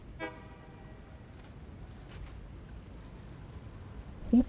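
A short, tonal honk from a train horn in the video game Satisfactory sounds once near the start, then gives way to quiet, low rumbling background with a few faint clicks.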